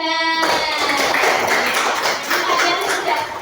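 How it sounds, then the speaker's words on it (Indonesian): Classroom applause from elementary school pupils for a classmate, a short burst of bright, fast clapping that rises sharply and fades after a few seconds. "Berikan tepuk tangan untuk Hana."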